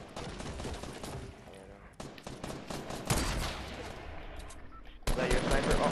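Fortnite gunfire crackles in close, rapid bursts, sustained and layered, swelling louder near the end, while a player speaks briefly over it.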